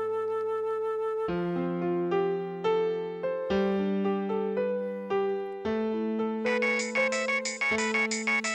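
A mobile phone ringtone plays a bright, tonal electronic melody of stepped notes, loud and close, repeating its phrase for several seconds with no voices over it.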